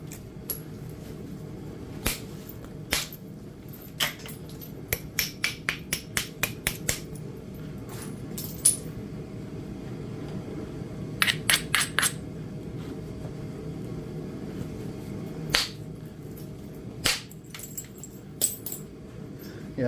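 Flakes chipped from a heat-treated Edwards Plateau chert nodule: crisp, close clicking strikes in scattered bursts, including one quick run of about eight, over a low steady background hum.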